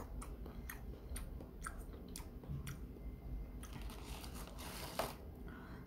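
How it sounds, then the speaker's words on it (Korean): No Brand apple jelly is chewed close to the mic, soft squishy bites and sticky smacks repeating quietly and irregularly with no talk. "그래서 젤리 먹방."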